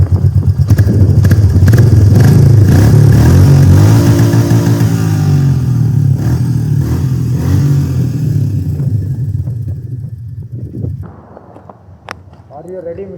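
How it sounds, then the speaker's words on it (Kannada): Royal Enfield Meteor 350 motorcycle idling up close, a loud, steady low thumping exhaust note that gradually fades as the engine winds down and stops, a faint click at the end. "ಸೊ ನಾವು ಇವಾಗ ಡೈರೆಕ್ಟಾಗಿ ಎಕ್ಸಾಸ್ಟ್ ನೋಟ್ ಕೇಳೋಣ ಬನ್ನಿ"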